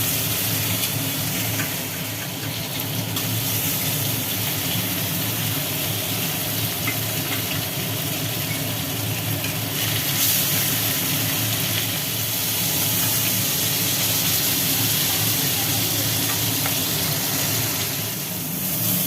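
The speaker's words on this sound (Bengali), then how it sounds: "ভোলা মাছের পিসগুলো একটা একটা করে তেলের মধ্যে দেওয়া হচ্ছে" Pieces of Bhola fish sizzle in hot oil in a kadai, a loud, steady hiss of frying that fills the whole stretch without any voices.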